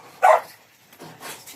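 One dog gives a single sharp bark, followed a moment later by a softer second yip, close and short.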